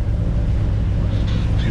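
A sailboat motoring at about five knots under engine with its genoa set, giving a steady low rumble with wind and water noise throughout, and no talk.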